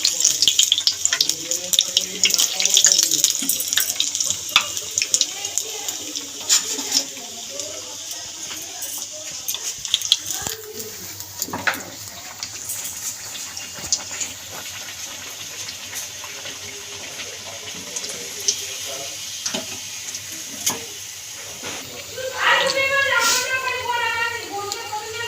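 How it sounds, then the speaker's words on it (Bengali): Chicken kababs fry in hot oil with a steady sizzling hiss throughout, broken by occasional clinks and stirring, while someone talks over it now and then. "তেল গরম হয়ে গেছে, এবার কাবাবগুলো ছেড়ে দিচ্ছে।"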